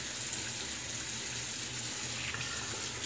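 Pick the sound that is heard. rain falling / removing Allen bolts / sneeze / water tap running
water tap running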